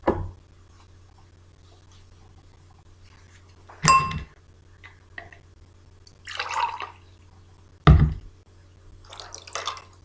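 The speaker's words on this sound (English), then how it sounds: "I'm now going to try and separate the salt from the water by filtering" Salt water solution dripping through filter paper in a classroom separation demonstration: a few sparse drips and small clinks, spaced seconds apart, over a quiet low hum.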